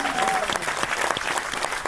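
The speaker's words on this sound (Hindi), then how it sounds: "मैं चाहता हूं कि लालमणि सर के लिए भी जोरदार तालियां।" Loud, sustained applause from a large gathered audience, dense clapping with crowd noise mixed in and a brief high whistle-like tone near the start.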